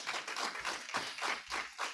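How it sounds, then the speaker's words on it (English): Light, sparse clapping from a small audience at a debate on marijuana use, honoring the presenters, with a few distinct claps in uneven rhythm, faint and without talk. "give all of the presenters a huge round of applause"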